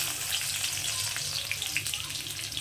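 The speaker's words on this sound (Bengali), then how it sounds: "তেলের মধ্যে প্রথমেই দিয়ে দিচ্ছি আমি একটু রসুন কুচি।" Chopped garlic frying in hot mustard oil in a wok, an even close-up sizzle with light crackling spits running throughout, no talking.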